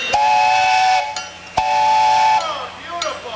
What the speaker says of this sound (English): And that steam engine.